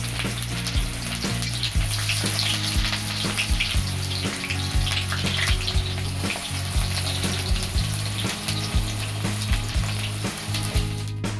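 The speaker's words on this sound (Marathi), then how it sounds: "आपलं तेल तापलं आहे, आपण कांदा टाकून घेणार आहोत." Chopped onion dropped into hot oil, frying with a dense, continuous sizzle and crackle close by, broken up by frequent thuds and scrapes of a spoon stirring the pan, with no voices.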